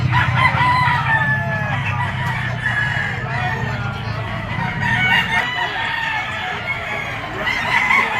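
A three-year-old lemon sweater gamefowl rooster crows loudly and repeatedly, with clucking and other fowl noises around it at a pet market, under a constant background hum.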